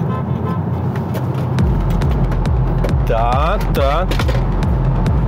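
A Polestar 2 electric car accelerates hard from 80 km/h, with a rising motor whine sweeping upward over a rumbling road and cabin drone. A voice speaks one short word.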